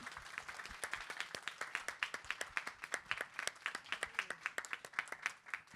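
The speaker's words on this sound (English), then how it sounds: "Let's give them all a round of applause." Audience applause after a panel discussion at an industry conference: clear, distinct hand claps from a modest crowd, evenly paced and fairly close, continuing for several seconds.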